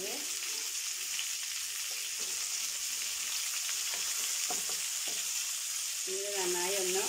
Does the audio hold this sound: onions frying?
yes